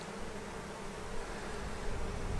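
Tired late-season honeybees buzzing steadily around an open hive, a soft continuous drone heard close by with no voices.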